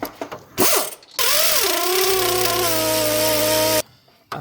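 A socket wrench with a star-head socket works on the tensioner idler pulley bolt of a Ford F-150, giving a sustained mechanical whir with a shifting pitch that then steadies. It is loud and close and sits between short handling noises.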